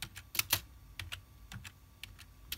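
Quiet clicks of computer keyboard keys come in irregular bursts as a command is typed on a Raspberry Pi, with a few sharper strikes standing out, all close and soft with no voice.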